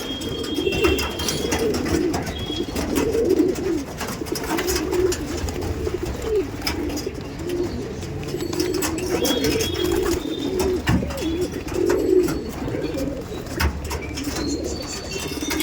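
Two male tournament pigeons of different varieties coo repeatedly in low, rolling, throaty calls, close by, with occasional wing flutters and faint background clatter.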